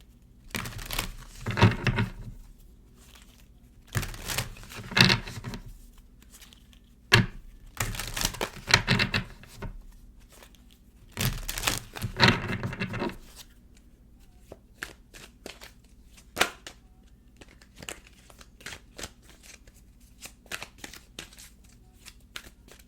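Close-up bursts of riffling and shuffling from an Archangel Animal Oracle card deck, several rapid flurries followed by scattered light card taps and slides, with no talk.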